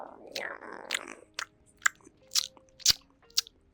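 Someone bites into and chews a blueberry treat at close range, producing a series of sharp, crisp crunches spaced through the moment, with a soft breathy murmur at the start.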